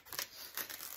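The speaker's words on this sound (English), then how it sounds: "I take scissors, just regular scissors, not your good scissors. And then I cut down the center so I get in the middle of that noodle." Ordinary household scissors slicing down the center of a foam pool noodle, giving a close, crisp snipping and crunching of blades through soft foam in two or three quick strokes, with no talking.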